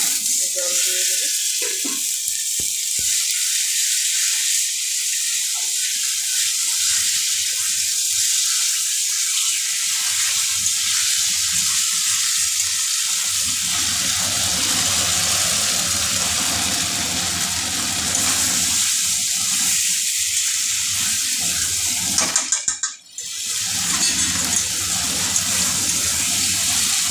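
Water is poured into a pan of fish curry with yogurt, giving a steady sizzling, running-water hiss that continues throughout at moderate level, with a brief sharper splash near the end.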